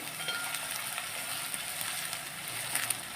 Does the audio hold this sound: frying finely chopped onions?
yes